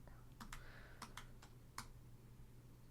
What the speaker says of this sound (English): we're going to have to keep on typing here